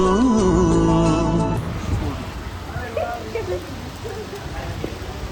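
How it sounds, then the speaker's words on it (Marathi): Steady rain falling outdoors in Nagpur on the first rainy day after a hot spell, a continuous wash of patter that follows a brief burst of loud music at the start. "आता बघा खूप दिवसानंतर पाऊस पडतोय."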